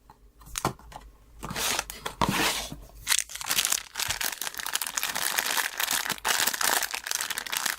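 Cardboard box from an AmiAmi package holding Re-Ment Pokemon figures being carefully opened and handled close up, giving crinkling, scraping and tearing rustles in irregular bursts that grow into nearly continuous handling noise.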